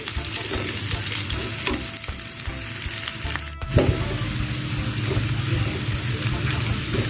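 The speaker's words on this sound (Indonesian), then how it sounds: "bawang putih, cabai rawit. Ditumis sampai wangi." Garlic and bird's eye chilies sautéing in a pan, a dense steady sizzle with crackles and stirring scrapes, briefly dipping midway before resuming full and close.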